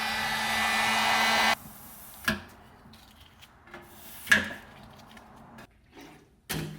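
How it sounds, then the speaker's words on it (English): A heat gun blows with a steady, loud whooshing roar against a GSXR 1000 motorcycle fuel tank for the first second and a half, then cuts off, leaving scattered scraping and knocking sounds close by. "Gonna start stripping the tank now so I can start repairing the damage on it. Gonna get a heat gun."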